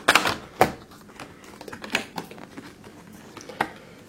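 An Inception limited edition box set case is opened with a series of sharp, close clicks and knocks from handling its latches and parts, with a few louder snaps among softer rustles and no talk.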